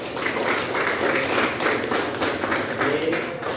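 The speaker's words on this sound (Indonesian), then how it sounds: "Berikan tepuk tangan dulu." A classroom of students at a Catholic junior high school claps together in a steady burst of applause for several seconds, dense and fairly loud, with a little speech mixed in.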